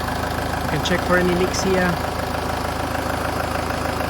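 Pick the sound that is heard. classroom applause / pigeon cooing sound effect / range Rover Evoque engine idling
range Rover Evoque engine idling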